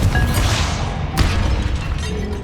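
A Confringo spell bursts during combat in the Hogwarts Legacy video game, producing a loud booming rumble with a sharp crashing hit near the middle, brief and close.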